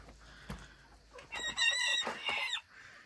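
A rooster crows once, a drawn-out rising call at moderate distance, preceded by a faint thump.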